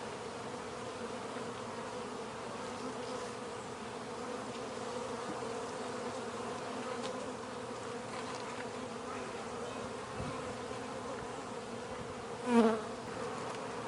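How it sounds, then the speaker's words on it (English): Honey bees swarm over a crowded hive frame with a continuous close buzzing drone, steady throughout, with one brief louder buzz near the end. "This is the frame that has the most amount of bees."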